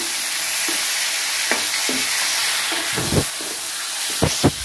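Tomatoes go into hot oil with fried cumin and mustard seeds, giving a steady broadband sizzle throughout with several sharper crackling bursts and spoon scrapes near the end, close and loud with no talking.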